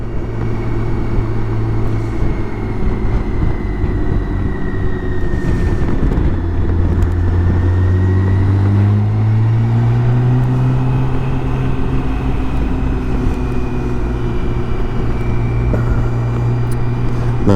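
A BMW K1600 motorcycle hums steadily through twisty road corners in low gear, its engine note rising and falling smoothly under constant wind rush, with no talk.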